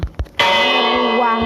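A bell rings in Minecraft, struck after a couple of short soft knocks, then a single loud, bright, sustained ring with rich overtones that holds steady and close for the rest of the moment.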